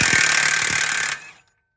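Milwaukee 1-inch impact wrench hammers loudly on an axle nut in a rapid rattling burst of about a second, then cuts off and trails into silence.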